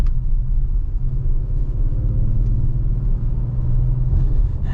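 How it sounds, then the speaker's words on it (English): Interior view of a 2022 Audi SQ5 Premium Plus with a V6 engine on the road, the cabin filled with a deep, steady, throaty low rumble that continues without a break. "This V6 also has the very deep, sort of throaty sound to it. And you get those little burbles when you on an upshift."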